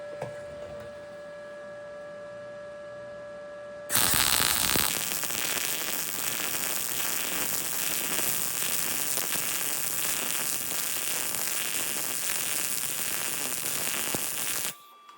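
Arccaptain MIG 200 welder laying a MIG bead: a loud, steady crackling hiss starts abruptly, runs for about eleven seconds and then cuts off, with a faint electrical hum before it starts.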